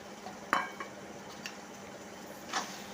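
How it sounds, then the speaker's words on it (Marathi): Spoon stirring gram flour into a tomato tempering in a pan, a few scraping clinks against the metal over a faint sizzle, otherwise quiet. "मिक्स करून घ्यायचं छान फोडणीमध्ये"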